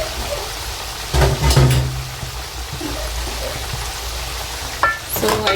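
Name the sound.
stirring loaded fries in a sizzling pan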